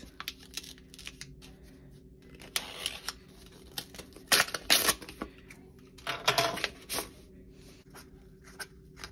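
A mail package is cut open up close with quiet, short scraping and rasping bursts, several clustered together over faint background clicks.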